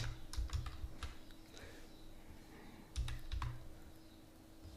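A search being typed on a computer keyboard, heard as quick bursts of close, crisp key clicks. One cluster comes at the start and another about three seconds in, over a low background hum.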